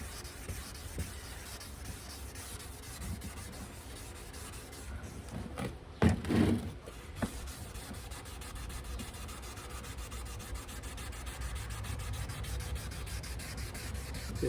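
Coarse sandpaper rubs across a car headlight lens in a long, steady, close scratchy rasp, with a brief louder scuff partway through and no talking.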